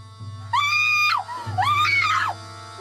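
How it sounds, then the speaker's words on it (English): Two long, high screams in a row from a woman, rising and falling, with a pause between them over a low steady hum. "Minutes later, Petrus heard screams."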